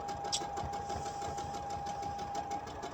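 A sewing machine stitches straight seams across pieced quilt fabric in a steady, rapid mechanical whir, close and continuous with a faint even hum underneath and no talking.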